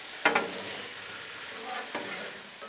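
Teriyaki chicken and broccoli get stirred on a Blackstone griddle, with a steady low sizzle and a couple of scraping spatula strokes near the start and again toward the end, faint and close, no voices.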